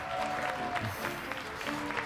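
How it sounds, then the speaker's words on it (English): Applause from an esports crowd at a Mobile Legends: Bang Bang tournament grand final, steady clapping at moderate volume with faint voices beneath. "Ladies and gentlemen, a round of applause."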